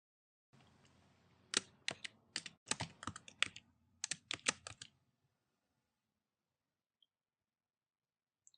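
Keys tapped on a computer keyboard while entering a folder name, a close, clear run of separate clicks in two short bursts over a soft low hum, then near silence.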